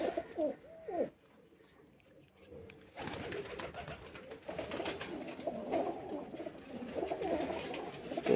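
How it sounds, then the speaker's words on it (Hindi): Domestic pigeons coo on a rooftop where birds are kept, soft repeated calls rising and falling close by, with a quieter pause before a busier stretch of overlapping birdsound. "घर का कबूतर है।"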